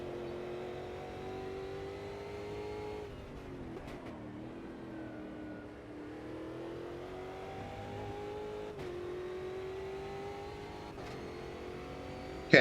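Race car engine in the Automobilista 2 sim racing game, a steady droning hum that rises and falls as the revs change, with a few sharp clicks and a brief loud bump at the very end.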